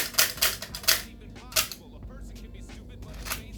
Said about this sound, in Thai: เดี๋ยวยิงให้ดูอีกรอบหนึ่งใส่แมกกาซีนแบบเท่ๆ ชัก แล้วยิง